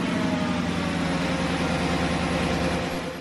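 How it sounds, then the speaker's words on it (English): A Porsche Cayenne S (955) runs with a steady, close engine drone and an even low rhythmic pulse, holding constant before easing slightly at the end. "here's the engine starting."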